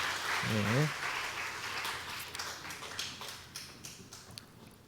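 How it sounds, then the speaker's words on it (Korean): Applause from a church congregation during a Korean worship service, right after a closing prayer. It starts under a brief spoken voice and continues as a moderately faint, scattered patter of many hands. "우리 박수하겠습니다"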